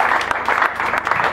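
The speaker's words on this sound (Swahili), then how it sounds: "Tupigie makofi na" Church congregation clapping in steady, dense applause, close and fairly loud, filling the whole short moment.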